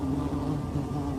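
Bees buzzing over bare ground in the Atacama desert, a steady insect drone with a low hum that holds at a fairly even level throughout, with no voices.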